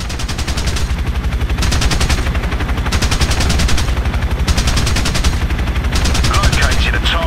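An Apache helicopter's cannon fires in a video game, long rapid bursts of loud, close rattling shots repeating in several volleys over a constant rotor rumble.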